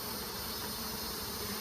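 Honey bees swarm around an open beehive in a healthy colony, making a steady, dense, fairly faint buzzing drone throughout.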